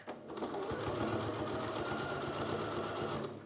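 Sewing machine slowly stitching over a very thick fabric face mask seam, a close, continuous labored whir with a low rhythmic thump of the needle.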